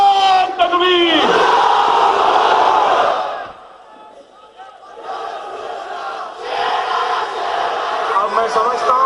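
A large political rally crowd in Mumbai roars back a chant in unison to the Nara-e-Takbir slogan, loud shouted voices swelling in waves with a brief lull before rising again.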